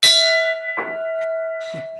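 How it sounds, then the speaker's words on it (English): A bell rings to open a Rotary Club meeting, with a sustained metallic tone and bright overtones, struck again twice at intervals as the ringing hangs on, loud and close. "Start the bell ringing here."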